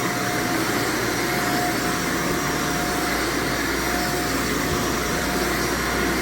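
Carpet cleaning machine vacuuming apartment carpet, a loud, steady roaring whine with a faint tonal hum, running continuously and close up with no voices.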